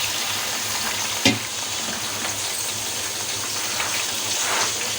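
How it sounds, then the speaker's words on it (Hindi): Beef pieces fry over a full high flame for a degi beef qorma, a dense continuous sizzle and crackle close up, with one sharp knock early on. "और आँच को मैं तेज़ रख के ये गोश्त को पहले 2 से 3 सेकंड तक मैं भूनूंगी"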